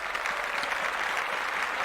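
A short burst of steady clapping on a podcast celebrating ten giveaway winners, moderately loud and continuous, with no clear talk over it.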